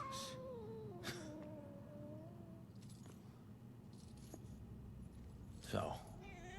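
A few drawn-out cat meows in the video game Murdered: Soul Suspect, one rising into a louder yowl near the end, over a low background hum.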